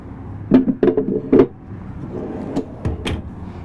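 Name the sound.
pull-out drawer tray sliding open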